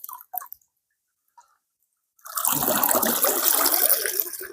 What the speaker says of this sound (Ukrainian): Сьогодні будемо звільняти басейн від води.